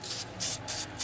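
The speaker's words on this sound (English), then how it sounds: "We're just spraying." CRC battery terminal protector sprayed from an aerosol can onto the posts of a dual-post car battery, heard as three close, steady hissing bursts with brief gaps between them.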